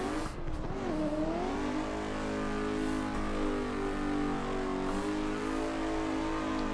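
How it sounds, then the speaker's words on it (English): Race car engine running steadily at high revs while the driver warms the tires before a practice run for HDC round 1, a continuous loud drone with rising and falling pitch and no talk. "So we are going to, we're going to heat up our tires."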